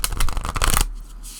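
Close riffle shuffling of a large, wide deck of Illustrated Herbiary collectable cards: a loud, dense stream of fluttering card edges that stops sharply, leaving faint room noise.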